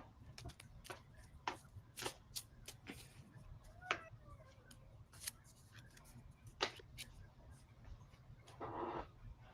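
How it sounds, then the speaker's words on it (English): Tarot cards being shuffled by hand in a quiet room, a run of soft irregular flicks and riffling snaps at close range, with a low steady background hum and no clear talking. "I shuffled my cards"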